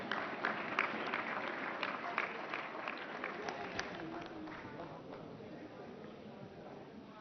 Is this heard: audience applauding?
yes